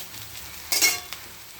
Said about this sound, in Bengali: উচ্ছে ভাজা হয়ে গেছে, নামিয়ে ফেলবো।